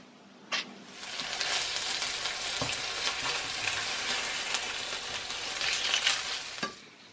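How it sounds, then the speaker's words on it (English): Hollandaise sauce being prepared in a pan in an English woodland cottage kitchen: steady close sizzling and frying with occasional clinks and knocks of utensils, no talk. "I'm preparing a sauce hollandaise"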